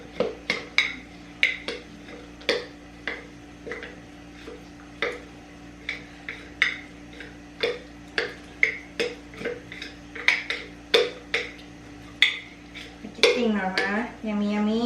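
A utensil stirs sourdough starter discard in a bowl, clicking against the sides in a quick, uneven rhythm of close taps, and a voice speaks briefly at the end.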